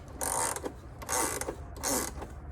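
A ratchet wrench cranks counterclockwise to loosen a bolt on an AC unit, three close bursts of rapid clicking, each a short run of ratcheting separated by brief pauses.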